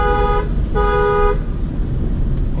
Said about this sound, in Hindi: हॉर्न स्कोडा का। स्कोडा का हॉर्न है।